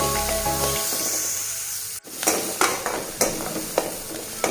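Onions fry with spices and garlic in hot oil for coastal chicken sukka. A steady close sizzle is broken by stirring scrapes at a regular pace, with a brief break partway through.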